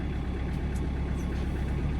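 A John Deere tractor engine runs steadily with a low, even rumble, close and continuous with no speech.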